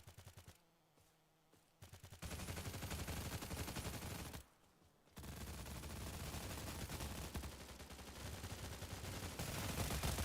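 Sustained automatic fire from an SA-58 rifle in the Stalcraft shooter, loud rapid bursts that fill most of the stretch, broken by two short pauses, with no talking.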